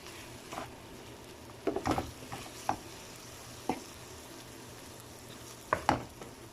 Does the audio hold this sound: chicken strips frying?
yes